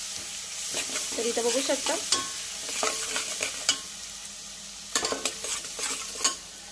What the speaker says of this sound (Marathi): यावर घालू आपण आलं लसूणची पेस्ट, हे सुद्धा परतून घ्यायचे आहे